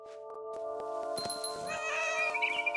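A cat meows in the What Remains of Edith Finch video game, a close, clear cry that rises into a drawn-out caterwaul over a steady tonal music bed and soft taps.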